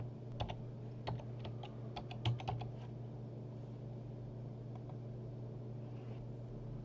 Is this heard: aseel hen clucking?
no